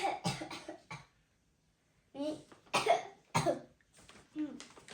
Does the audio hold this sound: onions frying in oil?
no